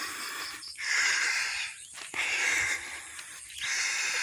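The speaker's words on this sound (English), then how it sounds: "I'm breathing hard already because it's humid here, so I'm sucking wind." Heavy, rhythmic breathing of a man walking in humid heat on a farm in Thailand, close to the microphone, with long hissing exhales and sharp inhales repeating about every second and a half.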